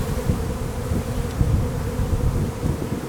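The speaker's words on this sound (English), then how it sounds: "There's a bunch of bees in front of hive number 13." Honey bees swarm in front of a beehive in a bee yard, making a dense, continuous close buzzing drone that stays loud and steady throughout, with no voices.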